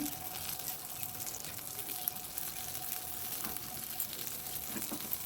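Eggplant slices fry in a generous amount of oil in a pan, a steady soft sizzle and crackle heard close by with occasional small pops, no voices present.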